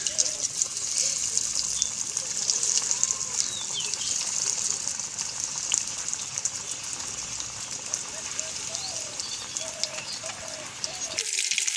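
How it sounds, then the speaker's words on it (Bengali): Egg pakoras deep-frying in hot oil give a steady, continuous hiss and crackle that runs the whole time, close and fairly loud, with a brief dip right at the end. "তেল গরম হয়ে গেছে, এবারে আমি পকোড়াগুলোকে ভেজে নেব।"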